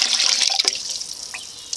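Water poured into a canner holding jars, a close, steady splashing stream that tapers off toward the end.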